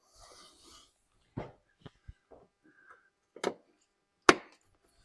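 Plastic clips snap into the side skirt of a BMW X5, giving a few quiet, sharp clicks and knocks spaced irregularly over faint background handling noise.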